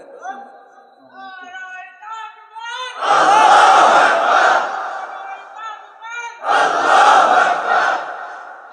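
A large crowd at an Islamic religious sermon chants slogans in two loud, roaring call-and-response bursts, following a preacher's sustained sung call.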